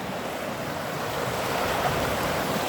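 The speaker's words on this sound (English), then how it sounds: "There's the river." A stream or small river beside a walking trail, heard as a steady broadband rush of flowing water, fairly close and continuous, with some wind mixed in and no voices.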